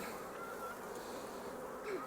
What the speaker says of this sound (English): I'm just going to have a quick look at the bees